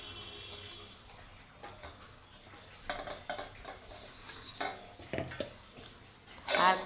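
Spices and other curry ingredients go into a metal mixer grinder jar for a spiced jackfruit dish, making quiet clinks, taps and scrapes of metal and spoon against the jar in scattered bursts.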